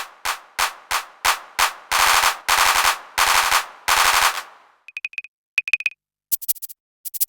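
Drum sticks strike the pads of an Erae II MIDI controller, triggering electronic drum sounds: sharp single hits speed into rapid rolls, then give way to sparse, bright, clicky tones, all loud and close with no talk.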